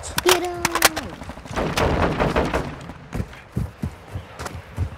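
Gunfire in Call of Duty Modern Warfare, with a few sharp shots and a short burst up front, then dull thuds and scattered impacts under a player's shouting.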